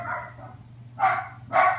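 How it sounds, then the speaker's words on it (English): A pet dog barks indoors, two sharp, loud barks in quick succession after a softer whine-like sound, close to the listener. "Quit your barking."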